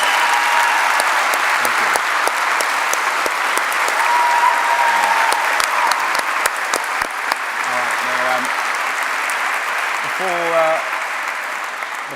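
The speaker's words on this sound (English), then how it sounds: "So please, can we have a round of applause one more time for the amazing sons?" A large audience at a talk gives a sustained round of applause. Loud, dense clapping continues throughout, with brief voices heard over it.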